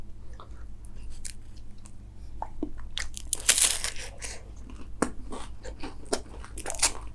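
Close crunching bites and chewing of a Chocobar ice cream with a biscuit inside, several sharp crackly bites followed by wet munching, loud and intimate.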